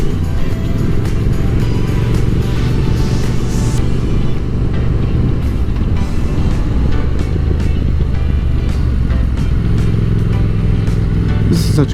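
A motorcycle engine drones loud and close as the rider gears down along a weekend ride through an elementary school car line, with a constant roar, shifting revs and wind buffeting.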